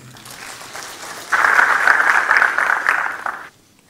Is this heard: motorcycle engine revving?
no